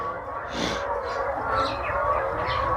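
Many myna birds chatter and call in a dense, overlapping chorus, a steady busy flock with sharper bursts standing out.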